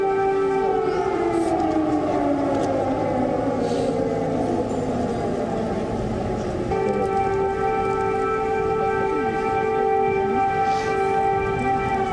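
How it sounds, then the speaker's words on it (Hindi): A loud air raid siren wails steadily in the streets of Kyiv with layered rising and falling tones, accompanied by rain-like background noise and no talking. "बाइडेन जब ज़ेलेंस्की के साथ कीव की सड़कों पर घूम रहे थे, उस वक्त भी हवाई हमले का सायरन बज रहा था"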